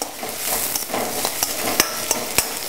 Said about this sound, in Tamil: வெங்காயம் நன்றாக வதங்க வேண்டும்